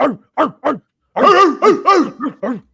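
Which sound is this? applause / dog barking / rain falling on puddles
dog barking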